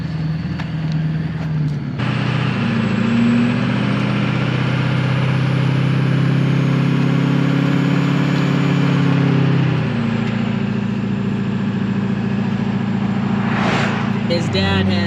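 A John Deere 8430 loader tractor drives down a highway, its steady low engine drone continuous and close throughout, with the pitch dropping briefly near the end.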